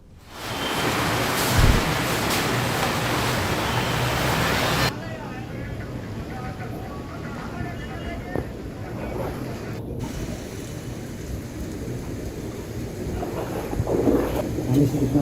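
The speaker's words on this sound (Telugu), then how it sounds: "ఏకదాటిగా కురుస్తున్న వర్షంతో రహదారులన్నీ కూడా జలమయమయ్యాయి." Heavy rain pours down across Hyderabad, a dense, continuous wash of noise that is loudest in the opening seconds and then settles into a softer steady downpour.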